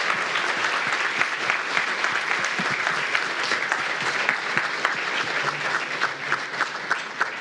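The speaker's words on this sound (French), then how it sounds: "Applaudissements s'il vous plaît." An audience at a comics festival talk at FIBD 2024 gives sustained, dense applause, many hands clapping loudly and evenly with no break from start to finish.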